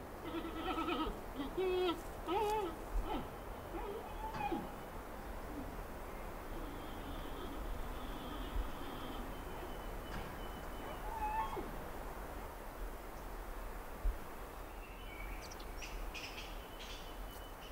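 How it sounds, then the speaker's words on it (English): Wild giant pandas bleat and chirp on a mountainside, calling in scattered bursts over a steady outdoor hiss, moderately distant and fairly faint. "the sound of loud bleating and chirping raises hopes of a chance to get close enough to study them"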